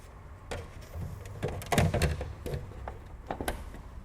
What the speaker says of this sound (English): and then close our door